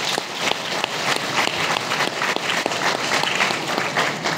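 Sustained applause from an audience at a winter Dhamma retreat session, steady dense clapping throughout with no pause, fairly loud and close.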